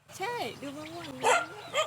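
A dog on a rural Thai farm gives excited, whining yelps and barks at close range, with a high squealing quality, mixed with a voice.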